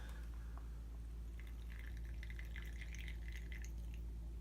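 Water trickles and drips as it is squeezed out of a foam pad, giving small liquid splashes in the middle over a steady low background hum, no speech.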